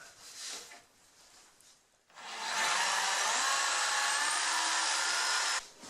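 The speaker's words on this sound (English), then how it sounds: "we'll just nip those corners off with the jigsaw" A power jigsaw cuts the rounded corners off a wooden TV table top, starting after a couple of quiet seconds, then a loud, steady buzzing whine held for about three and a half seconds before stopping abruptly.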